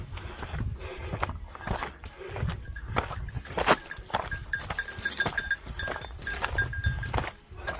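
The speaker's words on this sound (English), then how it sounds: "Look at these goats." Goats along a steep, rocky mountain running trail above Santa Cruz, Tenerife, giving scattered calls amid a busy outdoor backdrop of rustling and footsteps, with no talking.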